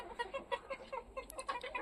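Hens in a garden in December cluck in a quick series of short, soft calls, close by but quiet, with no talk.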